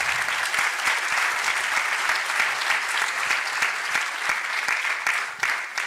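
An audience at an economics panel discussion applauds steadily for several seconds, a dense continuous patter of many hands clapping at close range, loud and unbroken, fading slightly at the very end.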